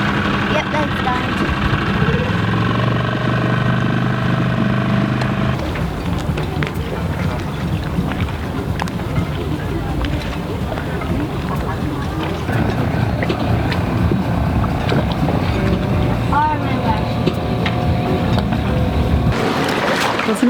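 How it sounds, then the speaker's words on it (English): An outboard tender motor runs steadily as the small boat crosses toward a cove off the Porquerolles island in France, a continuous close engine drone over water with talk mixed in throughout. "We've just taken the tender motor here to our own little cove."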